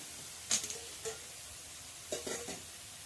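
Pork and eggplant being stir-fried in a pan, with a soft, quiet sizzle under a few bursts of spatula scraping and stirring, grouped in two short clusters.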